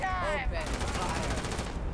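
A fast stream of weapon fire rings out in the Starfield video game, starting after a brief tonal in-game sound and continuing as a steady rapid burst at moderate level.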